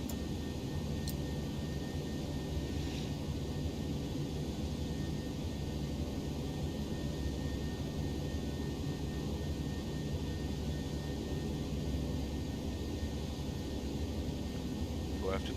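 Toliss A319 airliner climbing out in X-Plane 11, a steady broadband engine and airflow roar holding constant throughout, with a voice talking faintly beneath.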